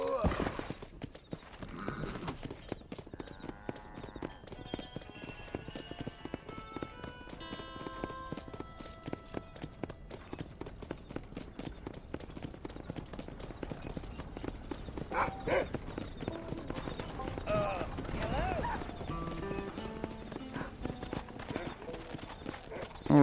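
Horse hooves clip-clop in the video game Red Dead Redemption, a steady, moderately close trotting rhythm with an occasional whinny. Voices talk over and between the hoofbeats.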